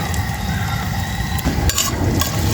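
Ginger sizzles in a hot stainless steel frying pan with a loud, continuous crackling hiss, close up, broken by a few sharp clinks of a utensil against the pan near the end.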